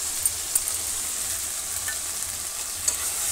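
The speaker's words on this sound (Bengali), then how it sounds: "পেঁয়াজ আর রসুনটা ভাজা গেছে, এবার জিরে আদা লঙ্কা বাটা দিয়ে দিলাম।" Cumin, ginger and chili paste fry with onion and garlic in a village kitchen on a rainy day, a steady close sizzle with a few sharp taps from stirring, with no voices.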